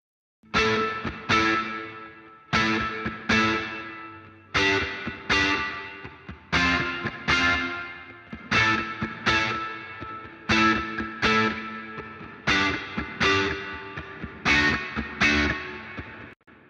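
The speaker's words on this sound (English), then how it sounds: "I'll engage the reverb compressor for an even thicker and denser plate sound" An electric guitar runs through a compressed plate reverb plugin, giving a thick, dense sound. Repeated strummed chords ring out in an even rhythm, each swelling and tailing off into the reverb, with no talking.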